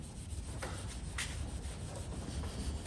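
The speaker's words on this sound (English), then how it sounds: "You want that mirror finish, just keep polishing." Steady rubbing hiss of polishing metal on a 75-year-old Van Dorn drill being restored, a continuous close abrasive sound with faint rhythmic swells as the strokes repeat, no talking.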